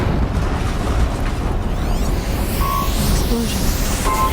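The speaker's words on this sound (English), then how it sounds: "An explosion." Explosion in Horizon Zero Dawn, heavy and sustained, a thick roaring rumble that fills the whole stretch at full loudness, with a few faint game chimes on top.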